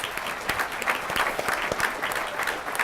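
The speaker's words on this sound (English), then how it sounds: "Round of applause for Jill." An audience at a county State of the County presentation claps steadily, a sustained moderate round of applause with individual claps audible and no talk.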